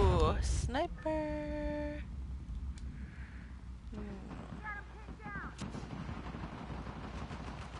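Sniper gunfire in the video game Uncharted: The Lost Legacy: a few sharp shots and rumbling blasts over game music and ambience, with someone talking briefly.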